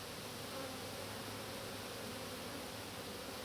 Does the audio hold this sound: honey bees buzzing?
yes